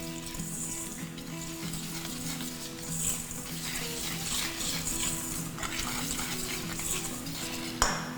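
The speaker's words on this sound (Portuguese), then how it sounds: "Eu misturo isso aqui, essa mistura dos secos" Dry ingredients for carrot cake mixed in a bowl, continuous scraping and rustling of a utensil against the bowl with occasional light clinks, close and soft, a sharper knock near the end, no talking.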